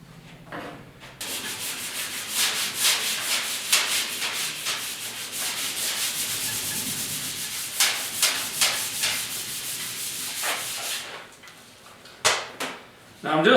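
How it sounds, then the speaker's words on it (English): Steady rhythmic rubbing of fine 400-grit sandpaper on a 1956 Mercury truck hood, close and fairly loud, continuing for several seconds before pausing, then a couple of short scrapes. "Now I'm just sanding this down with some 400 grit"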